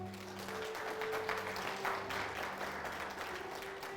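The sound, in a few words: audience applauding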